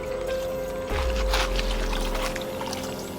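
Water from a well is poured over a person's withered leg, a brief splashing gush that starts suddenly after a quiet moment and runs on close by over a low hum.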